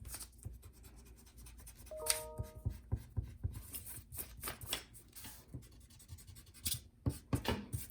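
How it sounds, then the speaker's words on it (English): A pencil drawing gets rubbed with an eraser in short, quiet scratchy strokes that come in uneven bursts, close and soft, with no talking. "I'm going to erase that pencil"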